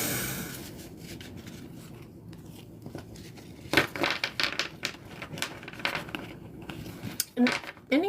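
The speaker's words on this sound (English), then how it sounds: "let me shuffle" Tarot cards are shuffled by hand close up, with irregular papery riffles, flicks and taps that start after a quiet rustling stretch and come in uneven bursts, with no talking over them.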